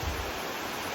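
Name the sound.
waterfall or mountain stream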